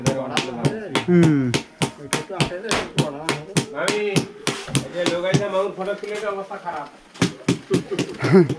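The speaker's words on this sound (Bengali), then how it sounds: "যে শব্দ হচ্ছে, মানে টাইট করা হচ্ছে" Sharp repeated knocks and bangs from tightening work on a construction site on a remote island in India, a steady series of loud hits heard under near-constant conversation.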